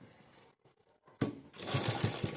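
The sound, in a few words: sewing machine stitching a blouse border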